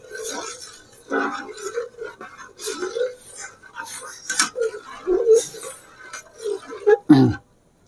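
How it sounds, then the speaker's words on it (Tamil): A spoon stirs rava semolina into coconut milk in a pot for a village-style rava kanji, giving intermittent clinks and scrapes against the metal, with some talk in between. "ரவாவை இதில் கொட்டி அப்படியே கலக்கி விட்டுடலாம்"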